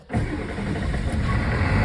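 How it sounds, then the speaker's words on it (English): A 1980-86 Ford truck engine cranks and catches almost at once, then settles into a loud, steady run right up close. "the motor might start, and it'll definitely roll the truck"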